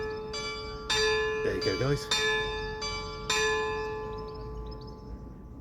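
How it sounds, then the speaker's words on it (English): Church bells of St Cuthburga, Wimborne Minster in Dorset, ring out ten o'clock, with several loud, resonant strikes and long decaying tones outdoors while someone speaks briefly over them. "got the church bells in"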